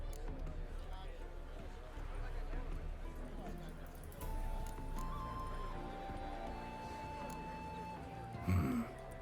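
Saddled horses in The Witcher 3: Wild Hunt clip-clop with steady hoofbeats, and a short neigh bursts out near the end, over a quiet in-game ambience with faint voices.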